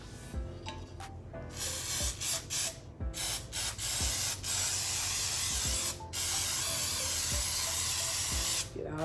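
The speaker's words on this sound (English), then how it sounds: "You know, you have to really make sure you get it sprayed down well." Cooking spray hisses into a fluted cake pan in a run of short and long bursts with brief gaps between them. The hiss is close and loud, with light clicks of the can and no talking.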